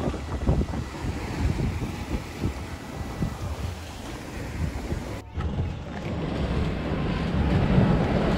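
Sailboat beating against the wind off the northwest coast of Ibiza, with loud, continuous wind buffeting the microphone and the rushing wash of waves along the hull, briefly dipping before surging again.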